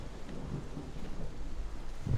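Deep, distant thunder rumbling low and continuous through a real storm outside, with a soft wash of rain and no voices.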